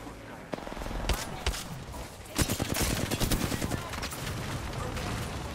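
Gunfire from Apex Legends plays in bursts of sharp, rapid shots, with louder clustered volleys in the middle of the stretch, mixed with other game sounds under continuous play.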